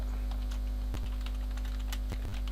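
Keys clatter on a computer keyboard as a word is typed into a search field, a short run of close, light taps with a couple of sharper strokes over a steady electrical hum.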